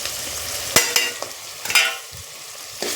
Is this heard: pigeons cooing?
no